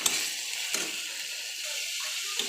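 An onion, ginger, garlic and green chilli paste fries in a pan with a soft, continuous sizzle and faint scraping clicks, quiet and close.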